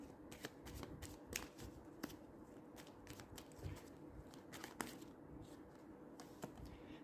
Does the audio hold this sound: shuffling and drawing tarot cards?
yes